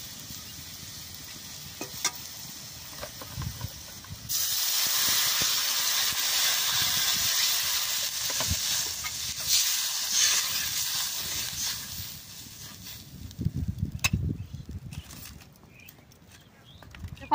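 Broth is poured into a hot pan of jute leaf curry, setting off a loud, sustained hiss of steam that lasts several seconds before settling into a quieter simmer with occasional utensil knocks.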